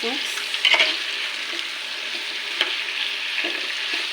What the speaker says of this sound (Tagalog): Ilagay ng gulay. Mix.